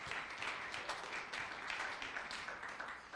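Audience applauding a high school media team livestreaming a student competition event, a faint, distant, steady patter of many hands clapping without a break.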